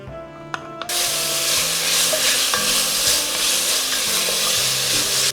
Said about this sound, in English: Then we add chopped onion, chopped carrot and chopped celery.